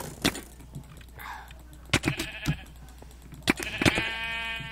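Sheep in Minecraft on the Mineplex server bleat several times in short, close cries, with a few sharp game clicks and hits between them.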